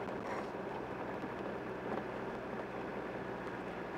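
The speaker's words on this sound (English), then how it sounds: "It's quite windy today." Steady outdoor wind buffets the microphone at a car dealer's lot, a constant low rumbling roar with no pauses and no talk.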